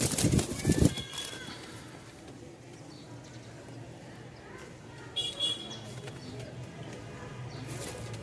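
Low, throaty Lahori pigeon cooing repeats steadily in the background, with a louder burst at the start and a faint buzzing hum throughout.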